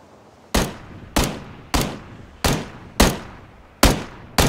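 Seven evenly spaced single gunshots ring out in a PUBG match, each a sharp loud crack followed by a decaying echo, with no talking.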